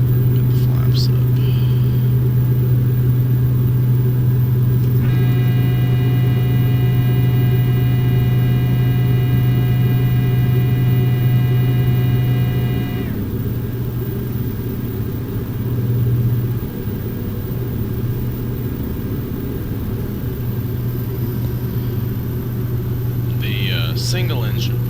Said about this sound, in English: Single engine performance of this airplane is also really good.